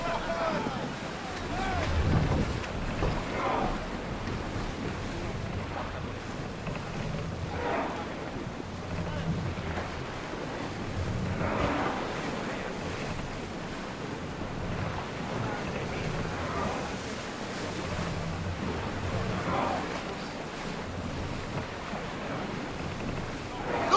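A sailing ship moves across open sea in Assassin's Creed Odyssey, with rushing wind, waves washing against the hull and creaking timber, while voices speak intermittently over the ambience.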